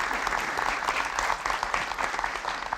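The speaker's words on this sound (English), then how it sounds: "If we can hear some claps from Mr. Ando" Audience applause at a talk honoring a professional guest, steady clapping from many hands filling the room without a break, close and fairly loud throughout.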